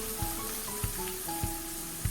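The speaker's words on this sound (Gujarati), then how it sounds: "ડુંગળીને પણ આપણે સંતળાવા દઈએ" Finely chopped onions sautéing in oil with ginger in a pan for spiced vaghareli rotlo, soft steady sizzle with a few sharp spoon knocks against the pan.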